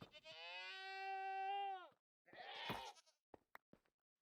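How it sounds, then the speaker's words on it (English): Goat bleating in the video game Minecraft, one long, clear, sustained nasal bleat followed by a rougher short sound and a few soft knocks, with talk nearby. "We have another goat, or is it still a child?"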